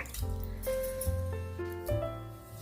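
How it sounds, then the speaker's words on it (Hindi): Water is poured steadily into a bowl of flour and yogurt for dough, a continuous close trickle whose pitch rises as the bowl fills. "अभी इसमें थोड़ा सा पानी डालेंगे, 1 कटोरी"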